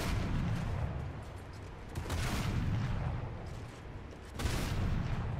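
Bomb and artillery blasts from a KOLN warship battle in War Thunder come as heavy rumbling booms, with sharp bursts around two and four and a half seconds over a constant roar of gunfire and no talking.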